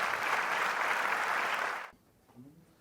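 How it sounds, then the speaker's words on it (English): A short burst of audience applause for a computer graphics card, dense clapping that cuts off abruptly, leaving near silence with a faint murmur after. "I think we should give it a round of applause"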